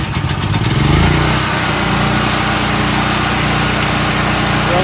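A Predator 7000/8750 portable generator, recently fitted with a new carburetor, cranks briefly with the electric start and catches, then settles into a steady, loud, close engine drone.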